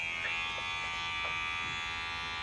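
Electric hair clippers fitted with a guard run close and loud, a constant steady buzz with faint ticks as they move through hair.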